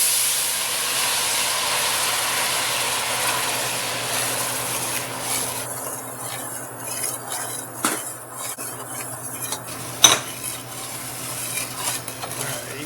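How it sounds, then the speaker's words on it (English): White wine poured into a hot pan of sauce for mac and cheese, giving a steady loud hiss and sizzle with stirring and a few utensil clinks, no talk. "Now we're going to deglaze this whole sauce with white wine."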